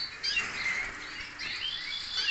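Small cage birds kept for breeding chirping close by, a dense, bright chatter of overlapping high tweets and trills that carries on steadily without voices.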